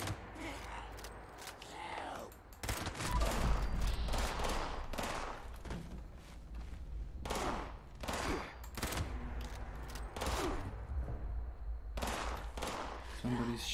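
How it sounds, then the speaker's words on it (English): Gunfire in the online game Fallout 76 comes as repeated sharp bursts over about fourteen seconds, mixed with other game sounds and a busy background. "Somebody's shooting."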